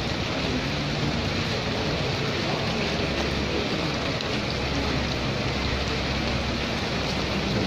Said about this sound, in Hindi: हाँ जी बारिश अच्छी हो रही है।